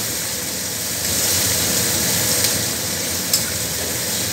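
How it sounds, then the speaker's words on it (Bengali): Onion shallow-frying in a pan for kasha mutton, a steady close sizzle and hiss with faint stirring scrapes and a couple of small pops. "পেঁয়াজটা কিছু স্যালো ফ্রাই করে নেব।"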